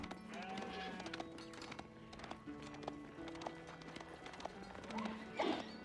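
Sheep bleat faintly amid the real-time strategy game Age of Empires 4, mixed with clip-clopping hooves and busy unit and battle sounds, with no talking.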